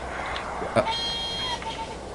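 A car horn gives a couple of short toots over street background noise, moderately distant and not very loud.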